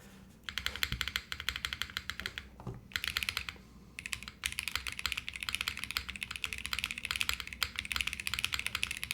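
Fast, steady typing on a newly assembled OG60 mechanical keyboard, close and crisp with rounded clacky keystrokes, briefly pausing twice before continuing, no talk.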